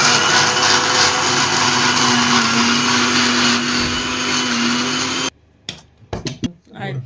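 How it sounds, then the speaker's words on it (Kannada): A kitchen mixer grinder whirs loud and steady while grinding spices with cumin, then cuts off abruptly, leaving a few brief knocks and rustles. "ಜೀರಿಗೆ ಹಾಕಿ ಮತ್ತೊಮ್ಮೆ ಗ್ರೈಂಡ್ ಮಾಡ್ತಾ ಇದ್ದೀನಿ"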